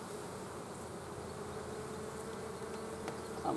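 Honey bees swarm around an open beehive, a dense continuous buzzing hum close to the listener that stays steady throughout.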